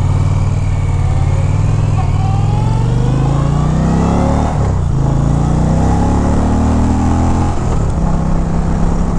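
A motorcycle, an Indian Challenger or a Harley-Davidson Road Glide CVO, is ridden on the open road, its engine roaring loud and close as revs climb steadily, dip at two gear changes and build again under rushing wind.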